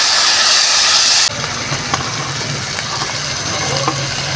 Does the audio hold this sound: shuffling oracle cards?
no